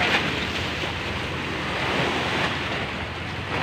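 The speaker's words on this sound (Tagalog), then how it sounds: "Yung alon." Ocean waves and surf washing steadily around a fishing boat out at sea during a tuna trip, a constant broad rush with wind noise on the microphone and no pause.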